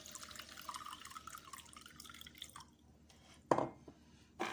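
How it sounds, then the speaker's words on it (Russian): Warm water is poured onto pine cone syrup, a steady trickling wash that fades, followed by a couple of sharp splashy drips near the end. "Положу немного теплой воды."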